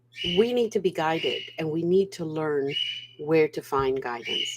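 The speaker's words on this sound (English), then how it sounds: "It's funny, you can hear my bird" A pet bird chirps and whistles faintly in the background of a room, its bright calls cutting in between steady talk from someone speaking over a constant low hum.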